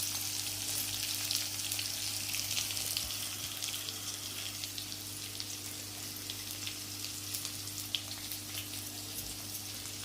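Asafoetida goes into a hot tempering of finely chopped onion and green chilli, which fries with a steady close sizzle and crackle under a low constant hum, with no talking.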